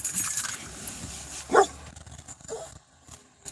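A dog indoors gives a short bark or yip over a steady background hum, with faint jangling and rustling around it.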